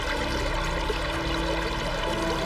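Steady running water flows and trickles continuously at a moderate level, the sound of water coursing through ancient Roman channels, with no voices.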